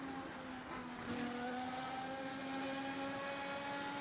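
F1 2023 mod race car engine in Assetto Corsa, a steady high-pitched whine holding a constant tone with no voices.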